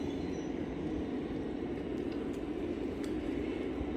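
Lionel model train rolling steadily along its track, a continuous low rumble and rail hum running evenly and fairly loud throughout, with no voices.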